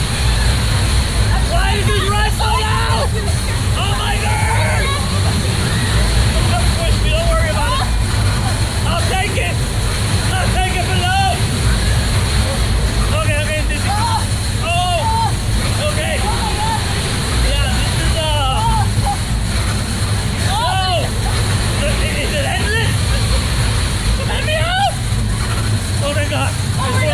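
A loud amusement park ride at Fun Spot Orlando gives off a steady, close roar of machinery and rushing air for the whole stretch, with riders' voices shouting and exclaiming over the din.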